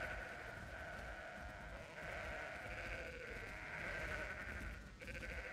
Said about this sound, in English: This dude just let his sheep roam around wherever